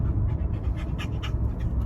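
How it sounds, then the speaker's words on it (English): A dog pants rapidly and steadily up close over a heavy low rumble, with no distinct barks. "the dog is barking at every nutty person that drives by or walks by"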